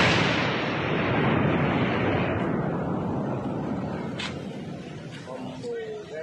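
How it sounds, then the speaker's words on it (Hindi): A ground explosion on the Teesta riverbank at Rangpo, Sikkim, heard as a loud, sustained roaring rumble that slowly fades, with a few sharp cracks and a faint tone near the end. "सिक्किम के कई हिस्सों में जमीन में जोरदार विस्फोट हो रहे हैं"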